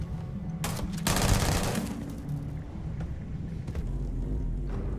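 Gunfire in the video game Starfield, a fast rattling burst of shots followed by a low rumbling background and a few fainter scattered pops.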